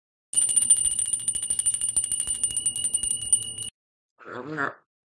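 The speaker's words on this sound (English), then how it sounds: "I rang the bell" A small bell rings in a fast, steady jingle for several seconds, then cuts off; a brief voice follows after a pause.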